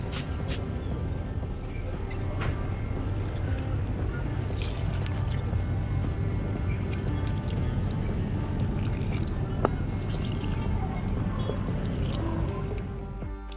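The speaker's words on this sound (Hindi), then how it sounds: "उससे पहले पौधों में पानी डाल देते हैं।" Water poured into potted plants at home in the evening, a steady trickling and splashing that runs continuously for about thirteen seconds at moderate level, with no talk over it.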